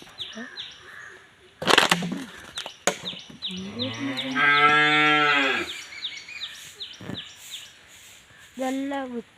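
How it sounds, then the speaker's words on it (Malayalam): A clean, healthy dairy cow that gives about five litres of milk lets out one long, loud moo close by. Short bumps and clatter come before it, and another brief call follows near the end. "നല്ല വൃത്തിയുള്ളൊരു പശുവാണ് കേട്ടോ."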